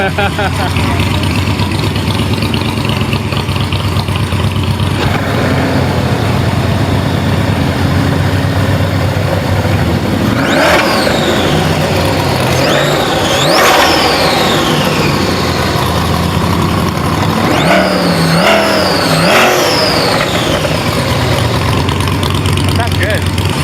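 A supercharged Chevrolet Corvette C8 Z06 fitted with a big ProCharger sits at a car show, idling loudly before a few sharp revs climb and fall in quick bursts, heard close up beside the engine.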